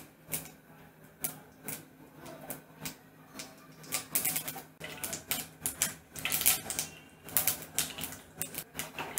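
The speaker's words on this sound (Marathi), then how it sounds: "मोहरी तडतडल्यावर 1/2 चमचा जिरे टाकते" Mustard seeds splutter in about three tablespoons of hot oil in a kadhai over a gas flame, sharp irregular pops and crackles in quick bursts, near and fairly loud, with no talking.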